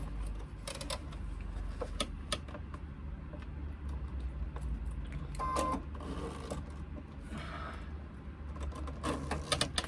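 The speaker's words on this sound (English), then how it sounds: "This is a little bit tricky, just stitching this up." Sewing machine with a walking foot stitching a fabric sling, a low continuous mechanical hum with scattered ticks and clicks throughout, near and fairly quiet.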